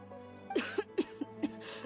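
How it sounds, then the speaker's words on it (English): A video game character in Sumeru coughs in a short series of quiet, hoarse bursts, about four or five in under two seconds, with faint game ambience behind them. "Cough, cough, cough."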